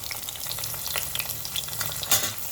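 Urad lentils, cumin, mustard seeds and red and green chillies frying in hot oil for tomato pulihora, a steady close sizzle with scattered crackles and pops, moderately loud and continuous with no talk.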